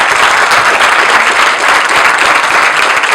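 An audience at a 2014 gathering on endangered languages applauds a teacher who has stood up, a loud, dense and steady wash of many hands clapping close by with no pauses.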